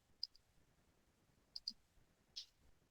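Sharp little computer mouse clicks, faint and close, coming singly and in quick pairs across a few seconds of near silence.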